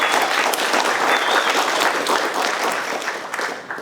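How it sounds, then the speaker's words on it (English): Dense, sustained applause from a conference audience at PromptConf 2019, a full roar of many hands clapping that holds steady and slowly thins toward the end, close and loud with no talk. "Can we give the speakers a round of applause?"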